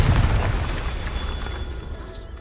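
A booming blast from the Confringo spell in the Hogwarts Legacy video game opens loud and low, then thins into a fading rumbling tail over about two seconds.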